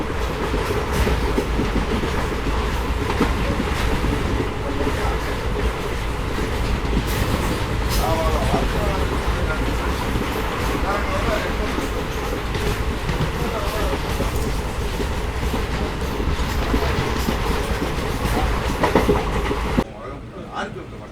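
The Sethu SF Express train runs steadily on rails between Rameswaram and Chennai, a loud continuous rumble with rhythmic clickety-clack of wheels over joints heard from inside the carriage, and voices faint underneath.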